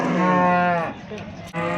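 A single long, low moo from a nearby cow at a livestock market, followed by quieter background noise.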